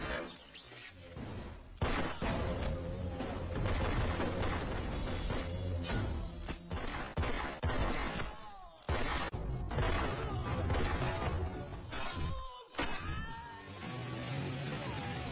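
Rapid gunfire from pistols rattles through a dense, loud action film shootout with a mafia gang, bursts and shots layered over a continuous music and effects mix for the whole stretch.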